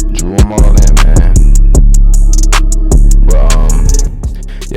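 A trap beat built on an iPad in Koala Sampler plays loud and upfront, with deep booming 808 bass under sharp rapid hi-hats and punchy snare hits in a steady rhythm, with no talking.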